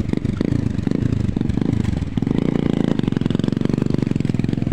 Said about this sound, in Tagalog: May motor po siya.